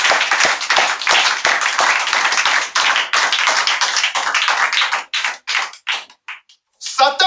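A church congregation claps rhythmically and cheers in praise, loud and close, with steady hand claps that break into scattered bursts and shouts before fading toward the end.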